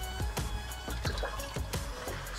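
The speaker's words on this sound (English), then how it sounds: "I have here about 2 cups of water, filtered water, and we're going to pour that in." Filtered water, about two cups, is poured into a batch of dandelion wine, giving a steady close-up splashing and dripping pour with rhythmic plops throughout.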